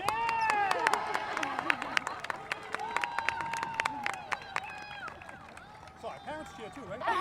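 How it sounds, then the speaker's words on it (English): Parents cheer at a Saugus High School graduation ceremony with whistles, shouts and clapping in a lively, continuous burst of crowd noise under nearby chatter. "parents cheer too"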